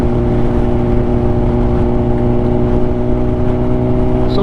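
Steady, loud engine drone from a CBR motorcycle while riding, holding a constant pitch with no speech throughout.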